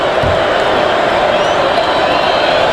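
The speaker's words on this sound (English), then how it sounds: "This crowd's still trying to settle down." Crowd in a packed arena at the NCAA men's basketball national championship, Florida vs Houston, giving off a steady roar and murmur throughout as a commentator talks over it.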